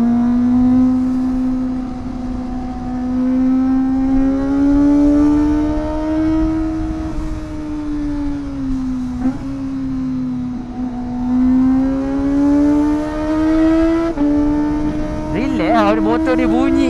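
Kawasaki ZX25R motorcycle engine droning steadily and close while riding, its high-pitched tone rising and falling with the throttle over a constant wind rush, with a sharper rev burst near the end.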